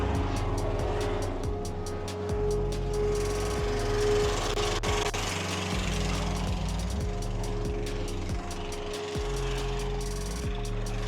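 A hydroseeder pump rinsing out its pump and hose reel runs as a loud, steady engine drone with low rumbling harmonics, shifting pitch a few times and continuing without pause throughout.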